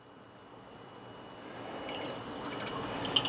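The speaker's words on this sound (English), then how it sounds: "I'm going to go ahead and soak it in water like it's supposed to" A GrillArt bristle-free BBQ brush is soaked in water, giving soft sloshing and watery dripping that slowly grows louder, close by with no voices.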